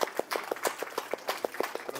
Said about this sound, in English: give a little round of applause for our friend Bob